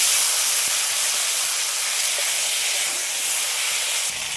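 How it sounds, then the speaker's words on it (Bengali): Ground spice paste of ginger and dried and green chillies hits hot oil in a pan of fried potatoes, giving a loud, steady, broad sizzling hiss close up that barely varies, with no talk. "এবার বেটে রাখা মশলা দিয়ে দেবো,"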